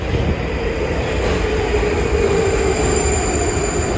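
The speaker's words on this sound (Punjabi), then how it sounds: "ਤੇ ਆ ਗਈ ਆ ਜੀ ਮੈਟਰੋ" A metro train rumbles into a station in the Czech Republic with a steady roar and a faint high-pitched whine, loud and close, with no voices.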